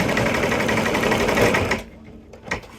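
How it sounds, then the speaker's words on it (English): An embroidery machine stitches out three small eyelets on a Christmas nativity bench pillow, a loud steady rapid whirring drone that stops abruptly partway through, leaving near quiet with a faint click. "So they'll just stitch out 3 little eyelets."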